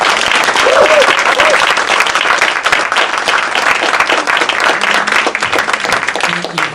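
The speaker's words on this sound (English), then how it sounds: "Please give a round of applause" A loud, sustained round of audience applause welcomes a doctor to a public discussion on mental health, dense clapping throughout with a faint whoop or cheer early on.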